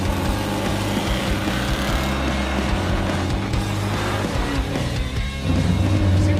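A Roadkill Garage muscle truck's engine runs loud and steady with a rough, uneven breakup in its note, a carburetor fault suspected, the rumble dipping briefly near the end before surging back.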